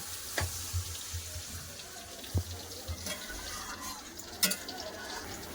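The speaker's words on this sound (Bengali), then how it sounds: "এবার দিয়ে দেবো জল" Water from a tap or jug runs into a pan of browned, spiced meat being cooked down for a Bengali mangsho kosha, with a steady wash of flowing liquid and a few soft clinks and knocks of utensils nearby.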